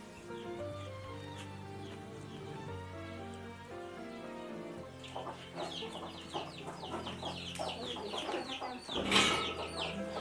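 Several chickens cluck and fuss at a rural Vietnamese home. The soft, scattered clucks come over a low background hum and grow busier toward the end.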